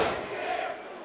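A wrestling crowd at a Juggalo Championship Wrestling show boos and jeers, a brief burst of loud, rough massed voices that fades slightly toward the end.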